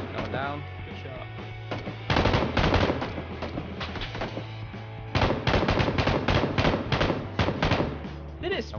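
Light machine gun fire in a first-person shooter game, two long rapid bursts of loud automatic shots separated by a short pause, with players talking over the action.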